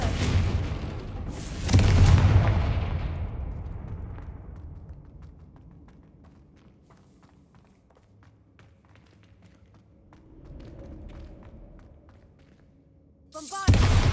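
A Confringo blasting spell explodes in Hogwarts Legacy with a loud, close boom that rolls into a long, fading rumble. Faint clicks and a softer swell follow, then a new burst hits right at the end.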